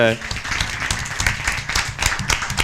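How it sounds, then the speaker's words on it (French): A conference audience applauds a discussion panel, a burst of steady clapping with a voice speaking briefly in French at the start and over the clapping. "Une main d'applaudissement à Sébastien qui a été génial."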